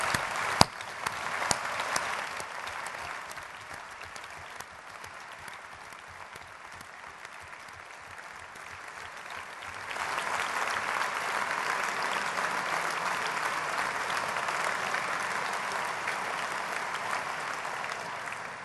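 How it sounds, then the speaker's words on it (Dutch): A political party congress audience applauds newly elected municipal councillors, clapping moderately at first, easing off, then swelling louder and fuller for the second half as the hall joins in. "En mag ik dan van u een warm applaus voor hen vragen?"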